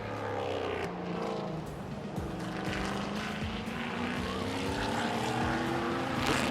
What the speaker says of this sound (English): Which one do you think is giving the rumble? Is it the TA2 or the Porsche?